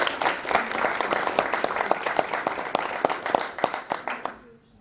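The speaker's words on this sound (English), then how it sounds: "let's have a round of applause" A room at a school board meeting breaks into a round of applause, steady clapping from a modest crowd that fades out near the end, with a voice briefly audible at the start.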